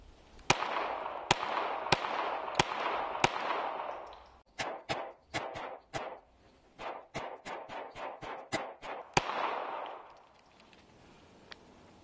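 Sig Sauer P322 pistol fired in a rapid string of sharp shots outdoors, the first volley rolling into a long echoing wash, then a quicker burst of separate cracks with short echoes and silence after.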